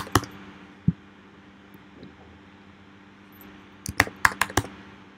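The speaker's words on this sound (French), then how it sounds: "Je vais taper dans la barre de recherche en haut, dans les effets sonores, avion." Keystrokes on a Mac computer keyboard while typing into a search bar: a few isolated clicks early on, then a quick burst of five or six taps near the end, close and crisp in a quiet room.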